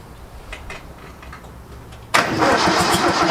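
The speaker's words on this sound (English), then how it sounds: "we've got crank. We've got crank." Engine of a 1977 F10 on a jump pack: quiet rhythmic cranking for about two seconds, then it abruptly catches and roars loudly, running rough and close.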